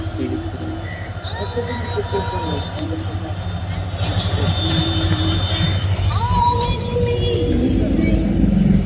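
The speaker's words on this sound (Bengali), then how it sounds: "তারপরে একটা রেল ক্রসিং পড়েছিল আমাদের রাস্তায় মনে হচ্ছিল যেন চা বাগানের পেট ছিঁড়ে চলে আসছে এই ট্রেনটা" A train passes a rail crossing that runs through a tea garden, its steady rumble and rattle of carriages building toward the end, heard close with faint background chatter and voices.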